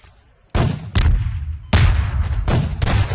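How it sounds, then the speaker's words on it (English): Grenades exploding in Garry's Mod, with four loud, close blasts in quick irregular succession after a brief quiet start, each giving a heavy broadband boom that trails off into the next. "I'm just throwing grenades, like random grenades"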